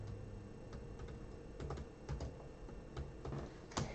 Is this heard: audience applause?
no